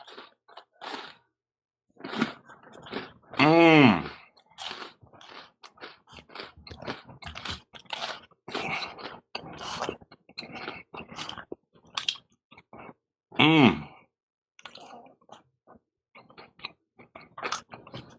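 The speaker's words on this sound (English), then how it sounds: "Let's take a crisp, quick bite." Crisp food crunches under a few loud, close bites, then a steady run of chewing with short pauses between the crunches.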